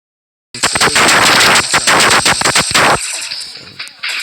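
Minigun Pistol in the Pixel Gun 3D video game firing a rapid, loud burst of close shots for about two and a half seconds, then cutting off into a quieter tail.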